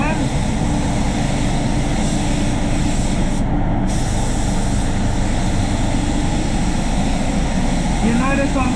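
A spray gun lays a close wet basecoat on a Subaru Outback bumper, giving a loud, unbroken hiss that holds steady throughout.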